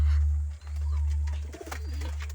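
Pigeons cooing close by in a steady low murmur, with a few soft chirps and rustles near the end and no talk.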